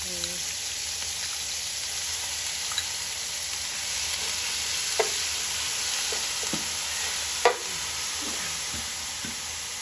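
Ginger garlic paste and onion paste stir-frying for an Andhra-style spicy duck fry, a constant hissing sizzle with occasional spoon knocks and scrapes, close and steady without talk.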